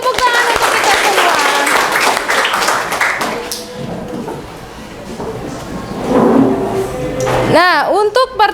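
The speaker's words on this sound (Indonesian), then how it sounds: "beri tepuk tangan untuk kita semua" Classroom applause from vocational high school students, a burst of hand clapping that dies down and then returns, mixed with voices and some tapping and knocking noises.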